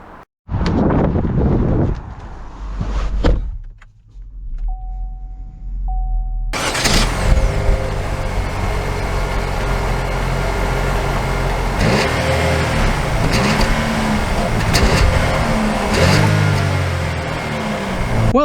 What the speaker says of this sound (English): So setting off here in the 2022 Chevy Equinox